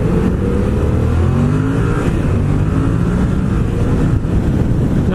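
A Yamaha MT-07 (FZ-07) motorcycle accelerating hard, its engine note climbing steadily under heavy wind rush from the rider's microphone, loud and continuous.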